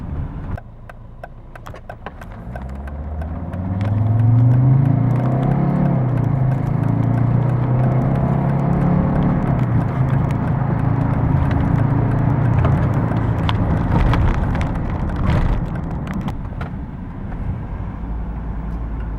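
A Mercedes-Benz E270 CDI W210 diesel sedan accelerates, its engine note rising and growing louder as the revs climb, then holding a steady, strong drone before easing slightly toward the end.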